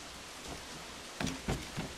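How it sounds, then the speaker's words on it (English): Rain falling in the Assassin's Creed IV: Black Flag video game, a steady broadband hiss with a few brief louder thumps near the end and no talk. "Oh, it's raining, great. I just love the rain."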